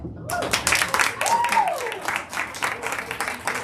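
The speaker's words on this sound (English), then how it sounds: "Sure we can! Applause!" Audience clapping at a live comedy stage show spoofing a game show, dense applause mixed with cheers and a rising whoop, with voices over it.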